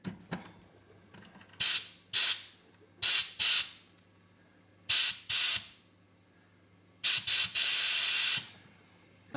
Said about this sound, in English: I'll purge out any oxygen that could be in the top here.